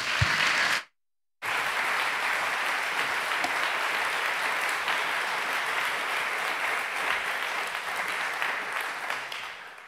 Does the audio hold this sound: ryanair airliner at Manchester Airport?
no